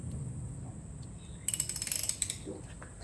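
A ratchet wrench with a 40mm socket clicks on motorcycle front forks, a quick run of a dozen or so sharp metallic clicks partway through over a low background hum.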